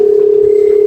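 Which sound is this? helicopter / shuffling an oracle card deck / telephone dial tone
telephone dial tone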